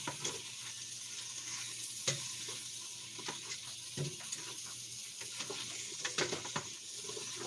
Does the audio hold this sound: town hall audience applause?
no